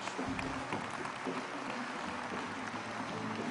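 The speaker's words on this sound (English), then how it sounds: "Big round of applause, ladies and gentlemen, for Felix Finkbeiner." Steady applause from a conference audience at a keynote event fills the whole stretch, dense and even without a break, with no talk over it.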